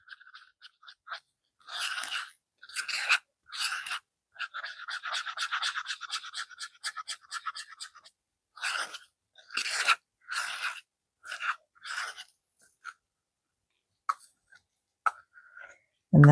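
Resin mixture stirred in a cup, producing bursts of close scraping and rasping strokes separated by short pauses, faint and dry with no talk over it.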